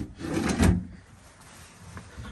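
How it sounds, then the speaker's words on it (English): A drawer in a 2005 Showhauler motorcoach toy hauler slides and thumps, one clear open-and-close movement up close, followed by quiet room tone and a faint knock at the end. "Keys, drawers, lots of drawers."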